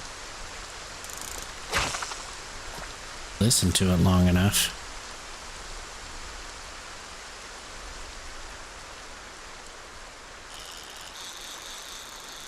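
Steady hiss of heavy in-game rain pours throughout, broad and continuous, with a few louder bursts and a burst of engine-like noise near the middle; a voice speaks briefly over it.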